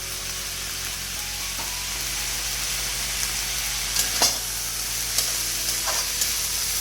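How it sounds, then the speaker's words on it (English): Loud, steady sizzling of vegetables frying in a wok for Indo-Chinese fried rice, with occasional clinks and scrapes of stirring, close up and without speech. "The sizzle that you hear is the main thing in Chinese cooking."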